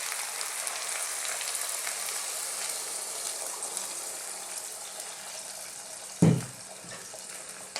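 Cold water poured into a pot of chopped carrots and ginger for soup, a steady close rushing splash running continuously, with a brief knock of the pot near the end.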